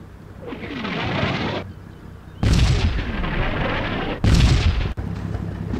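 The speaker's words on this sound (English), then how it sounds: "A company's forward garrison seems to be the target of Stanley's artillery." Artillery barrage in the wargame Combat Mission Shock Force 2 striking a forward garrison: three loud booming blasts, each with a long rumbling decay, fairly close and alone.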